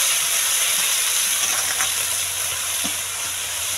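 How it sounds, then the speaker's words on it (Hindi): Fenugreek leaves fry in hot oil with cumin seeds, giving a steady, dense sizzle that continues evenly throughout, close and moderately loud with no talking. "फिर इसमें फ्राई करती हूँ ये कच्ची हुई मेथी।"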